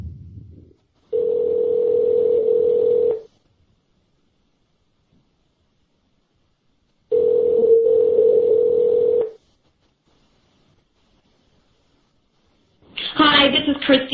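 Outgoing call placed during a radio show, with two long ringback tones separated by silence, then the faint start of a voicemail greeting.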